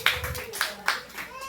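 A church congregation at a preaching service in Santa Ignacia, Tarlac claps hands in praise, a handful of sharp, spaced claps standing out close by over a faint room murmur.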